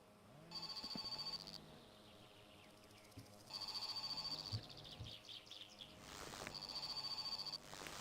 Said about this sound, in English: I hear the phone.